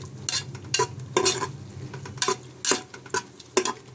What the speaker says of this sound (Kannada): ಈ ಸ್ಮೆಲ್ಲು ಹೋಗೋವರೆಗೂ ನಾನು ಚೆನ್ನಾಗಿ ಫ್ರೈ ಮಾಡ್ಕೊಳ್ತೀನಿ